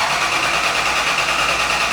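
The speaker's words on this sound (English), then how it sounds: "So it's idling and it's at operating temperature now." A supercharged V8 drift truck engine idles steadily up close at operating temperature, a constant droning hum with a rough, even texture and no change in pace.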